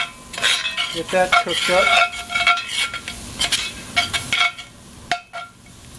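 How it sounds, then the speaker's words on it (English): Diced pepper, onion and celery are stirred through a light roux in a pot, with repeated scraping and metallic clinks from the utensil over a soft sizzle; a voice makes a brief remark. "diced pepper, onion, and celery. Into our light roux. I'm going to stir that around a little bit."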